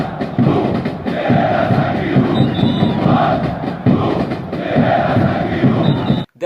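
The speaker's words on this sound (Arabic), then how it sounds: "الجماهير بتهتف لجوسفالدو فيريرا." A football crowd of Zamalek supporters chants for coach Ferreira, a dense, continuous roar of many voices with rhythmic surges, loud and steady throughout, with a faint whistle near the end.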